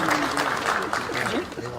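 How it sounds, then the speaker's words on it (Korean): Audience applause at a 2018 small-business support policy briefing in Paju, a short, dense patter of clapping mixed with a speaking voice throughout. "박수 부탁드리겠습니다."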